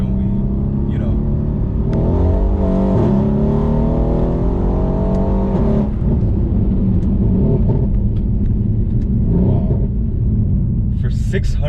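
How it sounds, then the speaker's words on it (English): Mercedes C63 AMG V8 rated at 650 horsepower accelerates hard in Sport Plus mode, a loud deep rumble with climbing gear pulls and shifts over several seconds, then settling into a steady drone; faint talk in places. "for 650 horsepower, this car really gets up and goes"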